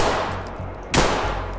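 A single sharp video game gunshot cracks out over a steady, noisy electronic backdrop, loud and close.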